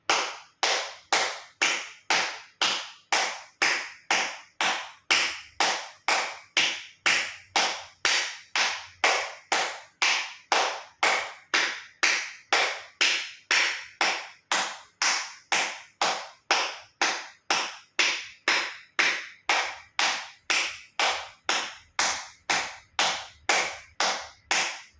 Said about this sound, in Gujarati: હથેળી આંગળીઓ બધું ટચ થાય રીતે 50 વખત જોરથી તાળી આપીશું